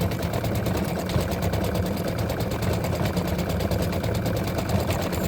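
A home embroidery machine stitches the body of a freestanding-lace Halloween spider design, giving off a steady, close, continuous mechanical whir with rapid needle chatter throughout and no speech.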